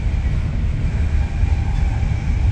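Charter train running on rails between Crewe and London Euston, a steady loud low rumble of wheels and carriage noise with a faint high whine, continuous throughout with no talk.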